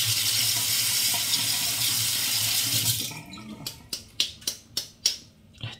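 Tap water runs steadily over an Arko Men 2 Pro electric shaver during rinsing, then stops and gives way to a quick series of sharp knocks, with no talking.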